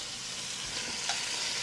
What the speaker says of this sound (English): we know it's the right temperature because we can get that good sizzle